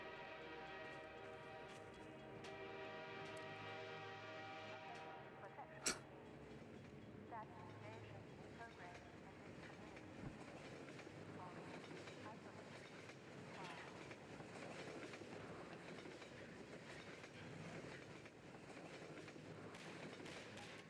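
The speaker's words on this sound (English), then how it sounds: "You wait for the train." A train in the video game Half-Life 2 approaches and rolls past, a drawn-out horn-like tone at first, then a sharp clank and a continuous rumbling rattle of cars, faint and distant-sounding overall.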